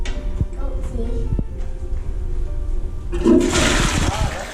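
A toilet in a Moxy Hotel bathroom in Paris flushes with a sudden forceful rush of water that starts partway through, loud and close, after some clicks and brief talking.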